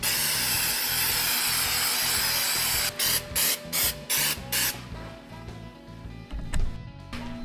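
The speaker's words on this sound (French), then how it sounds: "maintenant, je vais mettre la gravelle garde, ça va faire une finition parfaite." Gravel guard coating is sprayed onto a Toyota pickup body, a loud hissing spray that runs steadily, then breaks into several short bursts with brief pauses between them.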